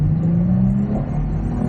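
A Toyota Prius grade X, 60-series 1800cc hybrid on 17-inch wheels, pulls away on a late-night road, its engine giving a steady, close, smooth hum with a low rumble that rises a little in pitch as it gathers speed.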